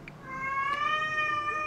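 A domestic cat gives one long, drawn-out meow with a rising then steady pitch, close and clear, with no talking.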